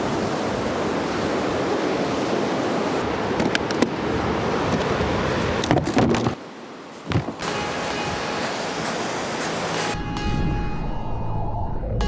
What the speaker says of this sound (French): Regarde la gueule des vagues.